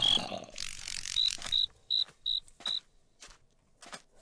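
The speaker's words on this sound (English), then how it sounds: "Oh, look, it's a cricket." Cricket in a modded Minecraft survival game, sounding as a series of five short, clear high-pitched chirps at a steady pace over soft background game sounds, with no talking.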